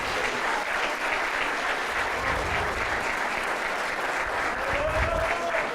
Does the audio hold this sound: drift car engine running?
no